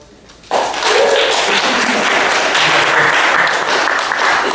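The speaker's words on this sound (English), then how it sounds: "So we owe University of Georgia Press a great thanks and round of applause." An audience at a poetry reading breaks into a full round of applause that starts abruptly and holds steady and loud throughout, a dense wash of many hands clapping together.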